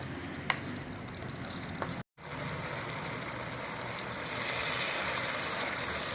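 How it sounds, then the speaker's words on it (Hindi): Masala for smoked liver curry fries in a pan with a steady, close crackling sizzle like rain on a surface, briefly cutting out, then returning and growing slightly louder. "ये देखिए ये मसाला भून रहा है"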